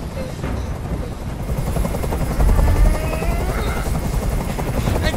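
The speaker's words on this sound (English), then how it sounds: "I can't stand that noise anymore. Tell that helicopter to get out of here." A helicopter in the video game Detroit: Become Human hovers nearby, its rotor chop thudding continuously over a buzzing engine drone that swells briefly louder.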